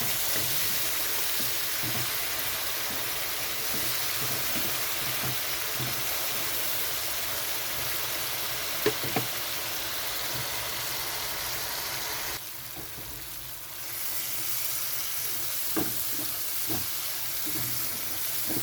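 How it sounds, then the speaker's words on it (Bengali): Spice paste sautéing in a pan with a little water added, giving a steady close sizzle and hiss, with occasional soft stirring knocks and a brief dip partway through. "এখানে দিয়ে দিচ্ছি খুব অল্প পরিমাণে জল মশলাটা কষানোর জন্য।"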